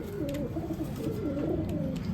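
Pigeons for sale in Nashik cooing continuously in soft, repeated rolling calls close by, several birds overlapping with no voices.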